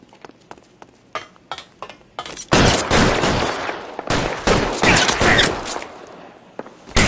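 Dense bursts of rapid video-game gunfire in L.A. Noire, a shootout with sustained volleys and scattered single shots, loud and close, following a few sparse pops at the start.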